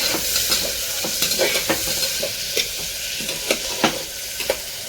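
Onion and green chillies sizzle while they are sautéed in a pan. A spoon stirs and scrapes them in a steady run of sharp taps over the continuous frying hiss, close by, with no talking.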